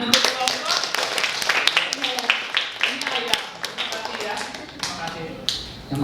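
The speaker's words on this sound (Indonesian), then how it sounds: "Beri tepuk tangan untuk" Class of students clapping hands in a classroom lesson, uneven sharp claps close and fairly loud, thinning and pulsing irregularly, with voices talking over them.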